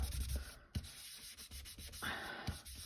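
Ink is rubbed hard onto a paper card for card making, making repeated soft scrubbing and brushing strokes close by, with small taps between them.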